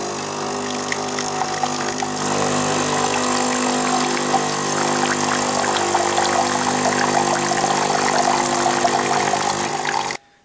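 An Aldi K Fee pod coffee maker, freshly descaled, runs its pump steadily as water flows through, a loud humming drone with gushing water over it, constant for about ten seconds and then cutting off.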